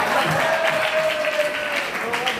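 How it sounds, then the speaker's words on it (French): An audience at a French-language comedy stand-up show applauds steadily in a short, dense burst, with a voice carrying over the clapping. "Applaudissez pour le boss, s'il vous plaît."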